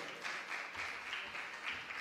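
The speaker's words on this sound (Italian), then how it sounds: "Eccola, applauso, più forte!" Audience applause at a live stage show in December 2017, a steady wash of many hands clapping at moderate loudness, with brief swells and no clear voices.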